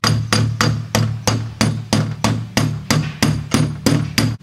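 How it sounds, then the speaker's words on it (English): A hammer beats down raised, sharp rust spots on a pitted exterior steel door, landing about thirteen steady, loud metallic blows in a regular rhythm, each ringing briefly before the next. "these here are raised up a bit and sharp, so I'll have to beat that down"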